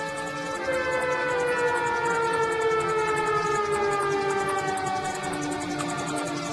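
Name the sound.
warning siren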